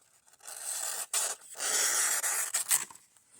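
A cheap budget knife slices through paper, giving several close, dry scraping strokes separated by short pauses in an otherwise quiet setting.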